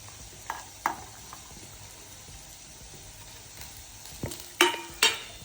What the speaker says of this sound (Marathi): आता हे टोमॅटो कांदा आपण हे कच्चाच घेतलेला आहे, आपण ग्रेव्ही फ्राय करणार आहे।